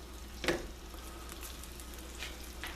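Fresh rosemary sizzles in a pan of apple, mango and banana chutney, a steady close hiss with a sharp clack early on and a few soft stirring scrapes.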